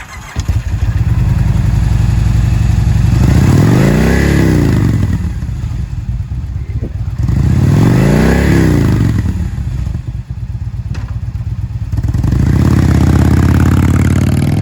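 A used 2004 Kawasaki Vulcan 2000 Classic heavy V-Twin motorcycle runs loud and close, its engine idling and then revving up and back down in two long swells before it settles into a steady idle.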